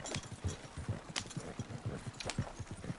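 Horse hooves clip-clop in the Red Dead Redemption 2 video game, a brisk, regular trotting rhythm of close, distinct hoofbeats, moderately quiet and with no one speaking.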